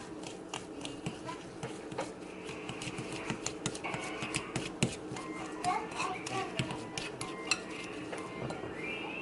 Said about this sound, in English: So I will mix it with a fork.